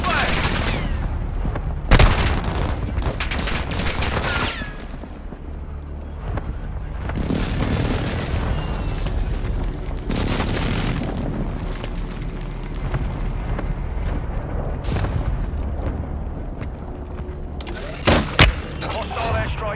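Gunfire and explosions from the battle royale video game Warzone 2.0, with dense, sustained shooting and blasts throughout, sharp loud bursts near the start and end, and in-game voice callouts heard over the combat.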